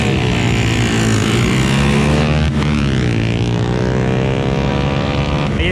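A Ducati 848 motorcycle races past in a street run of big-bike exhausts, its engine roaring loud and continuous, pitch rising then sweeping down as it passes, with other engines droning underneath.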